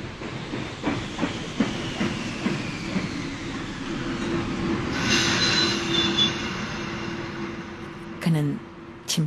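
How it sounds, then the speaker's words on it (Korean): A Simplon Orient railway train rolls in on its rails, with rhythmic wheel clacks early on and then a long, loud rumble and hiss as it draws near. High squeals come near the end. "심플론 오리엔트 철도 회사 소속 열차의 헤드라이트가 어둠을 뚫고 달려오고 있었다"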